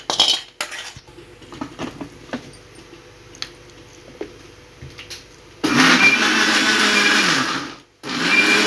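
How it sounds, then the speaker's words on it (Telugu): Kitchen mixer grinding tomato, ginger, onion and garlic into chutney: light clinks and taps of utensils first, then a loud steady whirring burst that cuts out briefly and restarts. "అల్లం ఉల్లిపాయ వెల్లుల్లి మిగిలిన టమాటా ముక్కలను కూడా వేసేసుకొని మిక్సీ పెట్టేసుకుంటే పచ్చడి రెడీ అయిపోయింది"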